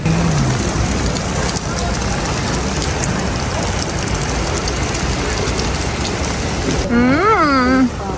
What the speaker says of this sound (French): il y a de la pluie partout, il y a des flaques partout